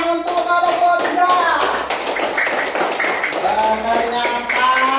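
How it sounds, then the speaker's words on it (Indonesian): Children in a grade 5 classroom clapping for group 3, quick rhythmic clapping mixed with kids' voices and shouting, close and lively. "Tepuk tangan untuk kelompok 3"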